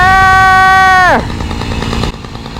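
A chainsaw's steady whine winds down sharply as a felled tree gives way, followed by a loud, sustained crashing rustle of branches and timber coming down nearby.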